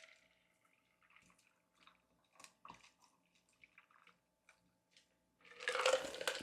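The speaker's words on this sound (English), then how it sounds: "And now we strain and pour." A cocktail is strained and poured into a Collins glass filled with ice, heard as a series of faint drips and small clinks followed by a short, louder burst of liquid splashing over the ice near the end.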